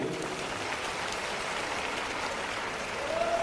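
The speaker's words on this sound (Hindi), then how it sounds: "एक बार सुंदर भजन के लिए जोरदार तालियां।" Steady, dense applause from a large crowd at a pilgrimage scheme event after a devotional bhajan, a continuous wash of clapping heard from a distance without a break.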